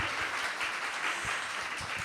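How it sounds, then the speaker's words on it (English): Audience applause following an artist's talk at an arts centre, a steady broadband wash of many hands clapping at moderate level throughout, with no voices over it. "Big round of applause"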